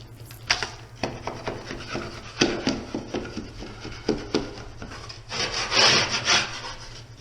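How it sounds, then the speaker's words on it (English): A 6-inch taping knife scrapes high spots and knife marks off drywall compound, giving a series of close, gritty rasping strokes in an uneven rhythm with a longer scrape near the end. "I like to take my 6-inch taping knife and just scrape off any high spots"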